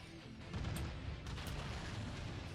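Booming weapon fire and explosions in the mech combat game Mechwarrior 5, a dense, steady barrage of heavy thuds and blasts that swells after the first half-second and rumbles on without pause.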